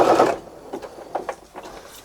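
A sewing machine whirs briefly while stitching squiggly lines onto a quilt border, then a few soft, scattered mechanical clicks and taps follow at close range.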